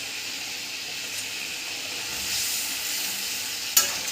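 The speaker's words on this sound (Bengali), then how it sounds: "ফুটে গেছে, আমি মাছগুলো দিয়ে দেবো।" Fish curry bubbling and sizzling in a pan as the fish goes in, a steady hissing simmer with a brief sharp clatter near the end.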